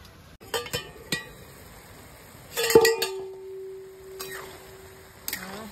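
A lid being set over a pan of pav bhaji vegetables, heard as a few sharp metallic clinks and a fuller clatter, followed by a sustained ringing tone that fades, all near and otherwise quiet.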